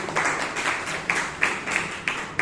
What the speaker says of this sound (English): A big round of applause for TTM Vijayanand.